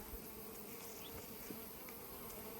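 Honey bees swarm around open hive frames of capped brood, producing a steady, dense buzzing hum that stays close and continuous throughout.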